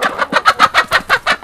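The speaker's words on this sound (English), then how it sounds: "This hen, this is what you call a black Australorp." A black Australorp hen clucks in a steady run of about eight rhythmic, close calls with no talk over them.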